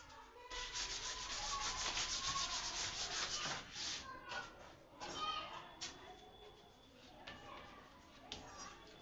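A duster or hand rubs writing off a classroom board, a continuous scratchy swishing that comes in strokes, loud at first and then fading into quieter bursts, with faint voices in the background.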